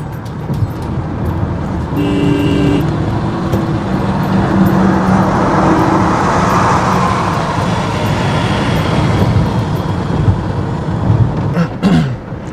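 A car drives along a road near Delhi in traffic, a continuous broad road and engine hum with passing vehicles, a short tonal horn-like toot early on and a sharper burst near the end.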